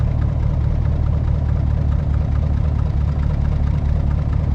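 A 2019 Chevrolet Silverado with true dual straight pipes and no muffler idles steadily indoors, a deep, loud, even rumble that holds constant throughout with no revving.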